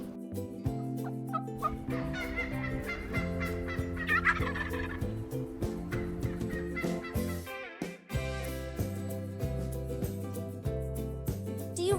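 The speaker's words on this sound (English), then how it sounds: "They can make gobbling sounds to communicate with one another." A turkey gobbles in repeated bursts over background music with a steady melodic line that runs throughout.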